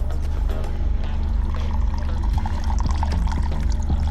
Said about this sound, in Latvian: Bet nu te ir vajadzīga augstākā izglītība, lai lietu tajā traukā ūdeni